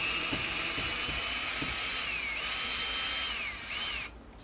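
A power drill backs a soft brass hinge screw out of a door, a loud, close, continuous whirring with small pitch wavers that cuts off abruptly near the end.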